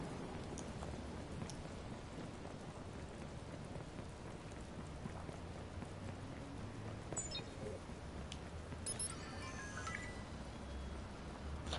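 Steady in-game rain falls in Watch Dogs, a dense even hiss of drops with a few faint clinks partway through.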